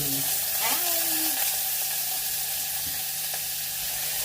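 Diced bacon pieces fry in a pan with a loud, continuous sizzle and spatter, and a few soft stirring scrapes come through near the start.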